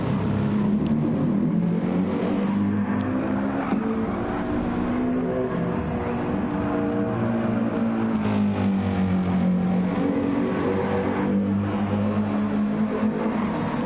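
Engines of race cars in a video game at the Autopolis circuit drone and whine together in a steady, dense roar with rising and falling pitches as cars battle close, continuous and fairly loud throughout.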